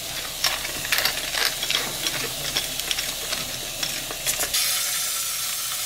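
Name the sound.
glazed chicken sizzling in a hot pan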